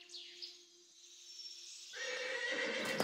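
A horse whinnies loudly nearby, a long shrill neigh that rises and then breaks into a rough, shaking call.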